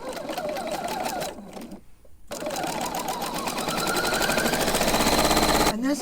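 Sewing machine stitching a zigzag on an envelope pillow cover, a rapid mechanical chatter that pauses briefly, then resumes and speeds up into a dense, steady whir close by.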